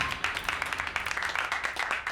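Applause breaks out after a ring is put on: a dense, steady patter of many hands clapping, close and lively throughout the short burst, with no talk over it.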